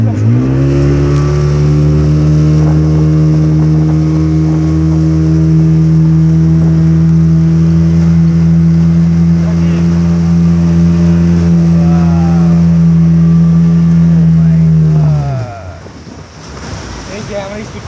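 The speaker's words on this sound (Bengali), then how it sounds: "এই যে আমরা স্পিড বোটে" A speedboat engine drones loud and steady on a river outing in Narsingdi, with wind and water rushing over it, before cutting off sharply near the end.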